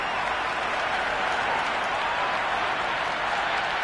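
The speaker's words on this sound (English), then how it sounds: "The crowd are really getting quite raucous." A large crowd in a cricket video game, Cricket 26, cheers and applauds steadily throughout at the Gabba, a dense, continuous roar of clapping and voices with no pauses.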